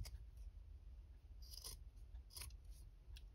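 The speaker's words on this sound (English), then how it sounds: "With my fabric scissors, not your normal scissors." Several quiet snips of fabric scissors cutting through the soft fibers of a tassel, spaced irregularly over a low background hum.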